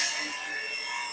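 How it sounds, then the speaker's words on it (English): An oval skew shear scraping a spinning wooden box lid on a lathe, giving a steady, bright hissing scrape that holds evenly throughout. "Now I've got my oval skew. I'm going to shear scrape."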